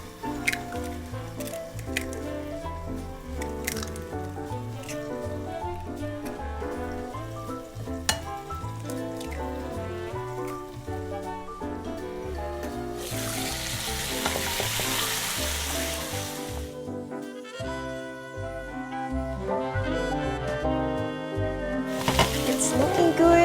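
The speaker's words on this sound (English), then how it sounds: "it looks like that potato is actually cooking now" Potatoes frying in a pan for a 1930s-style Spanish omelette give a steady, soft sizzle throughout, partly under background music.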